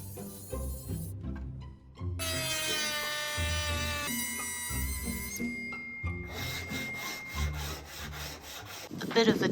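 Circular saw cutting a benchtop along a clamped guide, with bursts of high whining blade and cutting noise broken by short gaps, loud and close.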